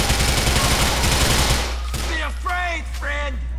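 Dense automatic gunfire fusillade in GTA IV, loud and continuous for about a second and a half, then breaking off into a few scattered shots as voices call out over it.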